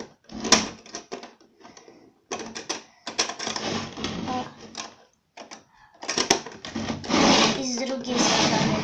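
Small doors of a toy Moomin house being opened and closed by hand, giving light plastic clicks and knocks in short bursts, with a child and an adult talking over them.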